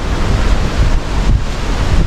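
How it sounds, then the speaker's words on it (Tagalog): Strong typhoon wind from Tropical Storm Kristine in Bohol, Philippines, roars steadily and loudly across the microphone, a dense low rumbling buffet with no voices. "Ganito talaga pag malakas ang hangin"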